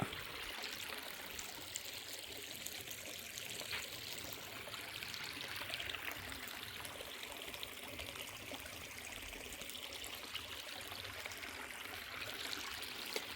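A stream of flowing water in an outdoor setting between plantations, a steady faint rushing and trickling that runs without a break.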